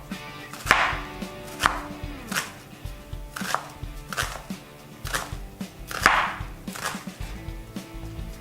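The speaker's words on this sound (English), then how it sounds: "Now I'll dice up my onion. I'm dicing it thin." Knife dicing an onion thin on a cutting board, a steady series of crisp close chops at an even rhythm, with no talking.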